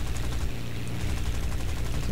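Rapid machine gun fire from a biplane in War Thunder, a dense continuous rattle of shots running steadily throughout at a loud, even level.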